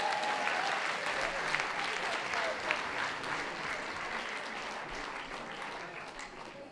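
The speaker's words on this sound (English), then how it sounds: "Give them a round of applause." An audience at a talent show performance claps steadily in sustained applause, a dense even wash of hand claps that fades slightly toward the end.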